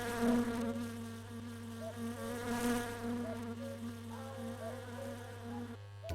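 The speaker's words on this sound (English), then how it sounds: "Oh man, these freaking mosquitoes." Mosquitoes whine steadily in the My Summer Car video game, a continuous close-up buzzing drone that rises and falls, over a low hum and with no voices.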